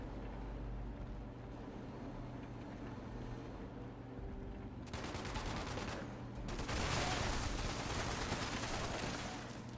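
Rapid automatic gunfire in Fallout 76 starts partway through and continues as a dense, steady rattle over a low droning background, with a brief pause before it resumes.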